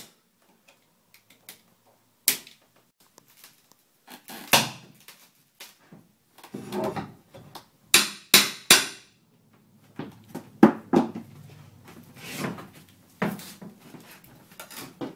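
Glued boards being pried off while a closet is torn apart, heard as irregular sharp cracks, knocks and wood creaks at close range, with clustered bursts of splintering and banging and quiet gaps between.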